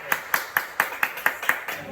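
An audience at a troupe's anniversary celebration claps in a steady, even rhythm of about four beats per second, close and crisp, while a voice speaks underneath.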